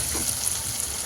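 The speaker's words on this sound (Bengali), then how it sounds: "এবার ভালো করে এটাকে কষাবো" Mixed ground spices sautéed in a pan for a meat-style masala, a dense continuous sizzle with faint stirring underneath, brief and fairly loud.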